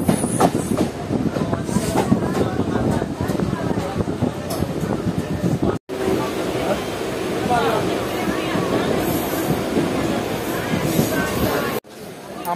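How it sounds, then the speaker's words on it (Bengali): A passenger train rolls along the rails through hilly Jharkhand countryside, a loud close rumble with clickety-clack of the wheels and occasional squeal, heard from aboard, with two brief dropouts. "আমাদের ট্রেন 3 পাহাড় জংশন ছাড়ার পর এখন কল্যাণচাকে এসে পৌঁছেছে।"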